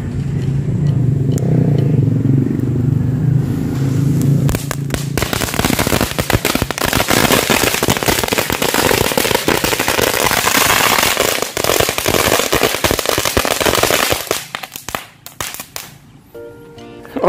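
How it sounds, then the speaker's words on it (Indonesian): Long string of green lightning firecrackers going off in a loud, dense crackling barrage for about ten seconds, following a lower rumbling noise, then dying away into a few scattered pops. "jadi itu dia mercon green lighting, mantap sekali"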